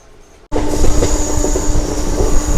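A MEMU passenger train brakes with a sudden loud onset of rumbling wheels and a sustained metallic squeal, heard from inside the carriage as a steady noisy roar.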